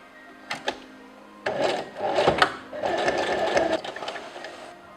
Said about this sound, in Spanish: Ahora para unirlo al top lo voy a coser siguiendo la costura que tiene